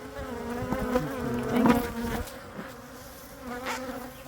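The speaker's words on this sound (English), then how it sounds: "A lot of bees." Honey bees swarm and buzz around an open, healthy hive during an inspection, a dense steady drone close by with swelling and fading pitches as individual bees pass near.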